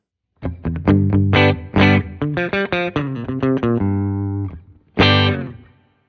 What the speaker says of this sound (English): And if I go back into the full humbucker mode,